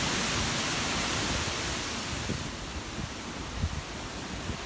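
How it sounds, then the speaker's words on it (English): Gale force winds roar steadily through trees as a dense, loud broadband rush. Faint gusting rustles sit beneath it, and no voices are heard. "these gale force winds."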